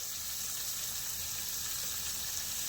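Buttermilk-drenched oyster mushrooms fry in hot oil, giving a steady, soft, even sizzle and crackle close by, with no talking.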